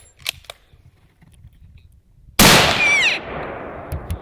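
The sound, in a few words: rifle shot during elk hunt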